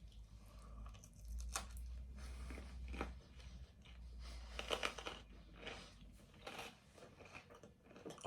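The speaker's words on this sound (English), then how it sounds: "Satisfying crunch on the crust." A slice of Goodfellas stonebaked thin Italian hot pizza is chewed close up, its crust giving quiet, irregular crunches and crackling bites spread over several seconds with no talking.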